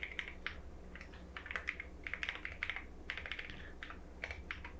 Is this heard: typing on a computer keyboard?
yes